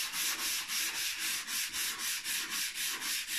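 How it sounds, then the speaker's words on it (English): Steady rhythmic rasp of hand sanding body putty with a sanding block on a Suzuki Sidekick, even back-and-forth strokes at a regular pace, close up with no talking. "I'm just going to do all the sanding on the putty just by hand"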